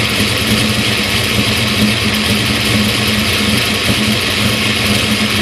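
Car engine idling steadily and loudly at close range while its ignition timing is being adjusted with the tuning software, a continuous, even droning hum with no talk over it.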